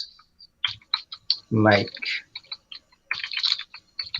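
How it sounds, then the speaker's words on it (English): Keyboard typing during an online parents' meeting on remote learning: scattered soft clicks and key taps come through between speech, with people talking over much of the clip. "Sorry about my typing."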